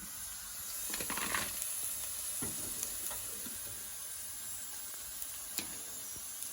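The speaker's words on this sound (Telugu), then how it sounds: "ఇలా గోల్డెన్ కలర్ వచ్చేంత వరకు ఫ్రై చేసుకొని, ఈ కలర్ వచ్చిన తర్వాత మనం తీసేసుకోవాలి" Chicken pieces frying in hot oil until golden for a chicken pachadi, giving a steady close sizzling hiss with scattered sharp crackles and pops throughout, no voices.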